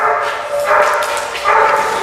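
Dogs barking and yipping together in a shared play area, with two or three short, loud, close bark bursts in quick succession and some whimpering between them.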